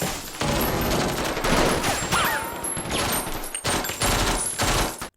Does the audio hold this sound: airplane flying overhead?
no